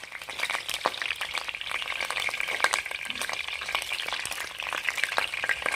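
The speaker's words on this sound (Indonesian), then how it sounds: "Kita goreng sampai dengan kering." Fish fries in hot oil until crisp, a dense, steady crackling sizzle heard close up with sharp pops scattered throughout.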